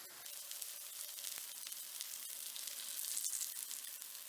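Korean braised tofu (dubu jorim) sizzling in a hot, slightly smoky pan, a steady bright crackle and hiss that swells a little toward the end, close and alone.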